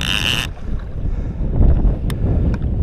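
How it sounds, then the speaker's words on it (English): Wind gusts rumble against the microphone on a fishing boat on the Hudson River at Newburgh, New York, a steady low buffeting roar that swells toward the middle, with a burst of brighter noise at the very start. "The wind picked up"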